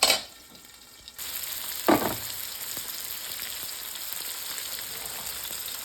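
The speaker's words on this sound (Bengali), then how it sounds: "তো মাছটা দুই পাশে একটু ভাজা হলো" Hilsa fish fries in a pan on medium flame; a quiet stretch gives way to a sudden steady sizzle, marked by a brief louder clatter, then an even crackling fry continues alone.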